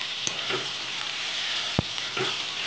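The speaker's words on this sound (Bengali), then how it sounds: "তখন বন্ধুরা চিচিঙ্গাটা একদম পুরো ভাজবে।" Snake gourd cut into small squares sizzling and frying in a pan, a steady broadband sizzle with a few soft stirring knocks and one sharp tap, no talk.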